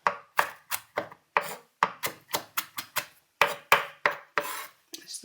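Fresh chilli being chopped with a knife on a board: about fifteen crisp, evenly spaced chops in a steady rhythm, close and clear, with no talking.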